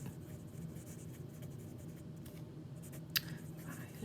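A Lamy Safari fountain pen with a medium steel nib writes on paper, a faint, soft scratching under a low room hum, with one brief sharp tap near the end.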